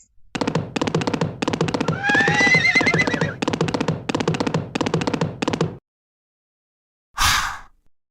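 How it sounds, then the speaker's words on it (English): Horses neigh in a rapid, repeated run of loud whinnies lasting several seconds, then stop; after a short silence a single breathy snort or sigh follows, with no talking. "Horses."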